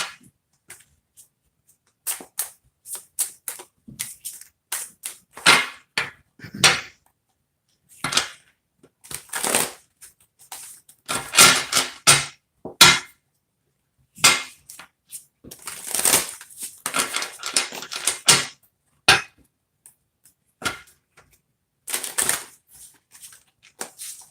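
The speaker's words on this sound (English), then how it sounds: "Now I'm going to shuffle my clarifying deck." Cards are shuffled in repeated crisp riffles and bursts, with short pauses between rounds of shuffling.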